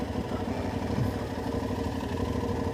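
A motorcycle engine runs steadily at low revs while the rider backs into a front-row parking spot outside a restaurant, a close, even rumble throughout with no talking.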